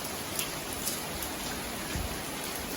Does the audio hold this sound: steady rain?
yes